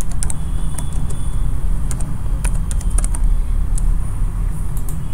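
Close, rapid clicking of computer keyboard keys while a PLC program is typed, irregular bursts of keystrokes over a steady low hum.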